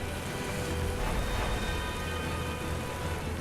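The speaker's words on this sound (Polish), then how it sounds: "O! Nice. Rain." Steady, dense hiss of rain conjured by a spell in the video game Magicka, an even downpour that holds at a constant level throughout with no talking.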